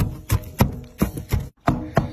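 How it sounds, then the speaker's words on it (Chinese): Pork fat being finely chopped with a knife on a board, about six to seven sharp, close thuds in a fairly regular rhythm with a brief pause midway. "把这油脂呢切的稍微碎一点，"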